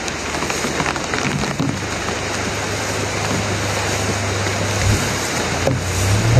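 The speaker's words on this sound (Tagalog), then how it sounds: "sobrang lakas po ng ulan" Heavy rain pours down steadily and loudly, a dense wash of drumming with a low rumble underneath throughout.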